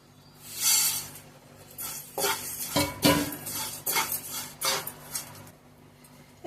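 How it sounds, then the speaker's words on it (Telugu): Vermicelli is fried and stirred in ghee in a pan, with a metal spoon scraping and clinking against the pan in irregular bursts, close up, along with a soft sizzle underneath. "నెయ్యిని యాడ్ చేసేసుకున్నాక ఇప్పుడు మనం సేమియాని వేసుకొని ఫ్రై చేసేసుకుందాం"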